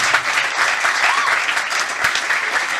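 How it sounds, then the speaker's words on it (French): Loud, steady applause from the audience at the Ecrans Noirs film festival, a dense crowd clapping continuously and evenly throughout. "Est-ce qu'on peut encore l'applaudir, s'il vous plaît?"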